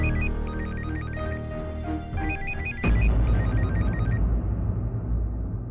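An electronic phone ringtone chimes in a repeating melodic pattern, then a low rumbling noise cuts in and the ringing stops.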